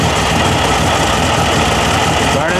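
An air-cooled VW engine idling with a throaty, steady rumble, loud and close, burning off oil, with a voice partly over it.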